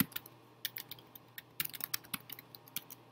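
Quick, irregular clicks of someone typing a web address on a computer keyboard, soft keystrokes in short bursts over a low steady hum in a quiet room.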